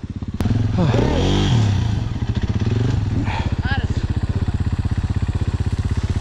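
An enduro motorcycle engine revving hard close by during off-road training, a rough pulsing throb that rises and falls with throttle bursts.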